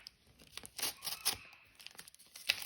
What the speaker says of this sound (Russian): Вот клей. Открываем.